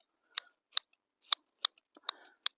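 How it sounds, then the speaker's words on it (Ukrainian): Garden scissors snip the tops off rooted cuttings of juniper, thuja and spirea, about seven crisp, close cuts in an uneven rhythm with no talking. "Це все я ножицями зріжу."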